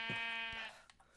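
A sheep in the video game Minecraft gives one short, buzzy bleat up close, fading out quickly with faint background after.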